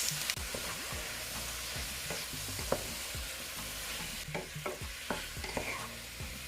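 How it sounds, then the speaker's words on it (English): Jamaican-style corned beef sizzles steadily in a pan with black pepper, Maggi seasoning and salt, a broad crackling hiss broken by frequent scraping and tapping stirs of a utensil, close and alone with no talk. "Let this fry down a little bit"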